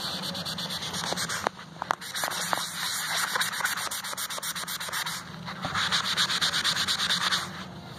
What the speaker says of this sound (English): We're definitely not getting any removal with the magic eraser.